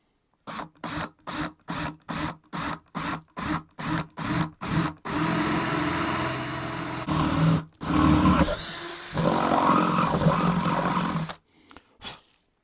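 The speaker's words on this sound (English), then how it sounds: "I can get quite neat edges using this drill." A power drill with a blade drill bit pulses in quick, even bursts, then runs continuously with a rough grinding tone before a couple of final short spurts.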